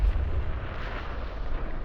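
A dungeon crawler video game explosion sound effect lingers as a heavy low rumble, loud and dense at first and then holding steady as a continuous roar.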